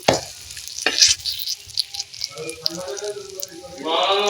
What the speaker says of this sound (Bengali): তাওয়াটি গরম হয়ে গেছে মাটির তা দেখুন এক এক করে এগুলো প্রথম আমি ভেজে নেব